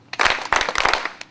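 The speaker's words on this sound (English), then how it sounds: "Now let's clap three times." A group of people clapping hands in rough unison, three loud close bursts of claps, followed by a faint single clap.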